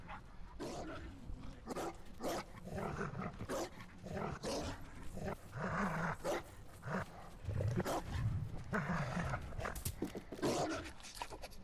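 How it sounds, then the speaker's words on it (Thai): Dogs bark in a Ghost of Tsushima game scene, repeated loud barks and yips in a steady irregular run across the whole stretch, mixed with game ambience and no talk. "หมาเห่าขนาดนี้ไม่มาดูอีกสัตว"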